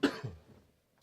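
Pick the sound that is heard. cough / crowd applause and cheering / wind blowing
cough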